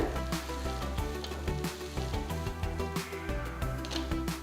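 Millet (kambu) dosa fries in ghee on a hot pan with a steady, close sizzle and crackle, broken by faint spatters and light clinks, with no voices.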